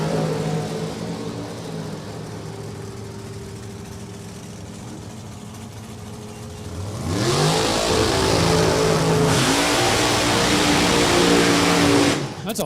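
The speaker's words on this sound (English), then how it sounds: "That's a loud car." A drag racing car at New England Dragway rumbles at idle, then erupts into a loud, harsh revving roar with rapid rising engine sweeps. It holds for several seconds at full volume, breaks briefly, roars again, then cuts off abruptly.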